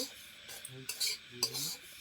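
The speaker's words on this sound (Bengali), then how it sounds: "এই সুজিটাকে লাল করে ভাজছি" Dry semolina being roasted in a wok for halwa, with soft scraping and stirring strokes of a utensil against the pan coming in short bursts, close and quiet.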